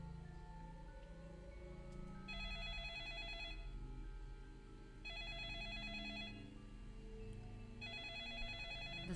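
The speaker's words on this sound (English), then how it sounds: "The sudden ringing of the phone startled everyone in the room." Telephone ringing in the video game 428: Shibuya Scramble, an electronic trilling ring repeating in three bursts with brief pauses, over a steady bed of background game music.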